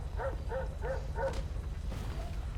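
Dog in a video game giving four quick, evenly spaced barks at moderate distance, then a softer yip, over a low steady background rumble.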